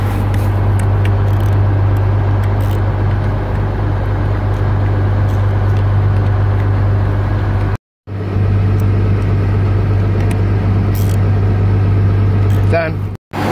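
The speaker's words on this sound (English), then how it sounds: "So we're driving down the road a little ways." A farm vehicle drives down a road during corn harvest season, giving off a loud, steady engine rumble with a strong low hum that continues almost without pause, broken only by two very brief dropouts.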